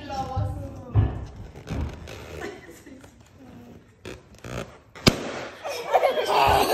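Balloons are popped with a fork, giving a few sharp, loud pops, with one especially crisp bang, amid excited voices and laughter close by.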